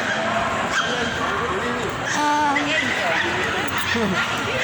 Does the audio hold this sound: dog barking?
yes